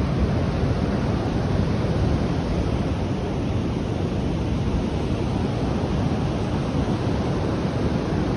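Ocean waves surge onto a sandy west-coast beach below cliffs, a steady, loud, unbroken roar of surf with wind noise and no distinct breaks between waves.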